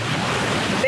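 Waves washing against a kayak on Lake Erie, a continuous close rushing wash of water with no clear breaks, loud and broadband.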